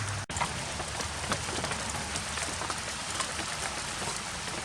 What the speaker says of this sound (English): Now, it is raining today.